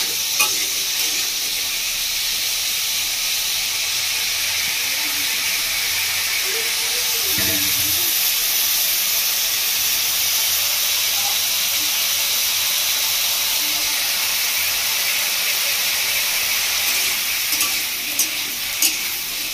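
Chela fish sautéing in a pan for a Bengali village-style fish, potato and radish curry, a steady broad sizzle and hiss running throughout, loud and close with no voices.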